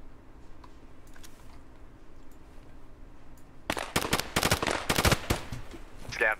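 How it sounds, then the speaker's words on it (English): Escape from Tarkov gunfire: after several seconds of quiet ambience with faint distant shots, a loud, rapid burst of automatic firing breaks out and continues in close, sharp cracks to the end. "There's someone shooting on the other side of the wall."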